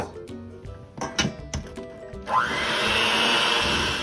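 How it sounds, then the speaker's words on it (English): A hand mixer starts up and whirs steadily as it beats room-temperature butter into watermelon curd, following a few clunks and knocks of handling, then holds a loud, even motor drone through to the end. "Then mix it with a hand mixer for 20 seconds."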